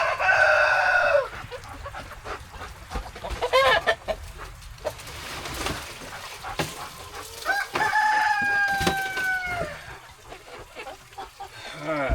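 Lavender hens and other chickens on a homestead cluck and squawk up close, with a rooster crowing at times and bursts of calls scattered among softer clucking and rustling.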